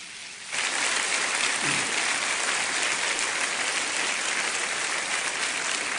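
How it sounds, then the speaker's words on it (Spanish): A church congregation bursts into sustained applause after a brief quiet moment, a dense, even roar of clapping that holds steady to the end. "¿Cuántos le dan un aplauso al Señor?"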